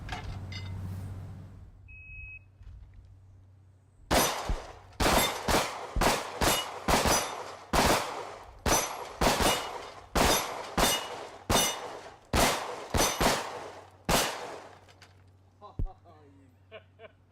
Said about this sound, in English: you just watched us each shoot the dueling tree a couple times